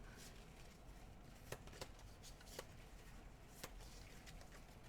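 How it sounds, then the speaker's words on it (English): Board game cards are shuffled by hand, a quiet riffling rustle with several sharper snaps as the cards fall together, close and soft with no voices. "You'll shuffle them up."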